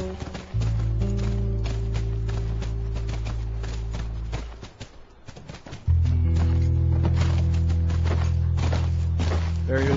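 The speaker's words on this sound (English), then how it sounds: "By the ranch. That's our horse." Hooves clip-clop in a steady, quick rhythm as a horse moves near a ranch in The Last of Us, with a low hum under it that briefly drops away midway.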